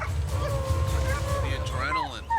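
Hunting dogs baying on a black bear in a swamp, a steady chorus of howls and yips with rising wavering cries, mixed with people talking over it.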